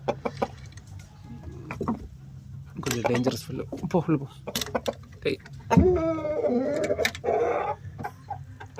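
White fighting rooster and hens in a backyard coop, scattered clucks and squawks close by, mixed with someone talking throughout.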